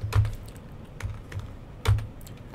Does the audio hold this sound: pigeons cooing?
no